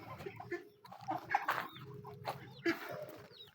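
A mother hen and her newly hatched chicks cluck and peep inside a solar-warmed coop, with soft overlapping clucks and higher chirps scattered across a low, steady background.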